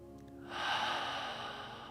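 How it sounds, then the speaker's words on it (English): A long, deep breath drawn slowly during guided meditation, a soft airy rush that swells and then holds steady, close and quiet over faint background hum. "And now taking a nice, long, deep breath."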